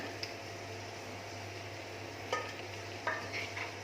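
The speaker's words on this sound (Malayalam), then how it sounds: "ഇനി ഇതിലേക്ക് ഞാൻ ഈ ചിക്കൻ ചേർത്ത് കൊടുക്കുവാണ്." Chicken is stirred into a pan for a roast, with a faint steady sizzle under occasional soft scrapes and clicks of a spoon, quiet and close.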